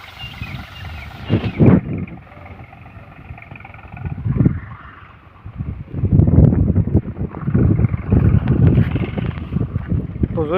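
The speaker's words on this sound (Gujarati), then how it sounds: "તો જોઈ શકો ટ્રેક્ટર આ રીતે ચાલે છે." A tractor drives along a rough, stony farm track past a millet field, its engine rumbling unevenly as it moves, with heavy wind buffeting the microphone and someone talking at times.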